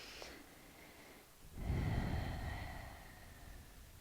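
A single audible exhale in a quiet yoga room during a pyramid pose stretch, a soft airy breath that swells after a brief pause and then fades slowly, close and gentle, with no talking.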